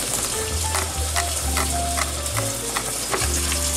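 Ground beef fries in a pan with a loud, steady sizzle, broken by the scrape and clack of stirring, close up and continuous with no one talking.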